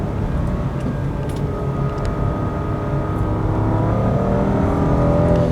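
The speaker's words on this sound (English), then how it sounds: "Let's switch to manual shifting. Downshifting." A 2022 Opel Corsa engine drones steadily from inside the cabin, its pitch rising gradually as the car downshifts under manual shifting, loud and continuous with no talk.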